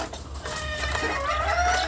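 Hen with small chicks on a poultry farm clucking and cheeping continuously, close by, a steady chorus of high peeps over low hen clucks with no talking.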